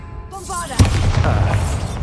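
A booming blast from the Bombarda spell in Hogwarts Legacy, a short voiced phrase first, then one sudden loud explosion with a rumbling, crackling tail that fades over the following second.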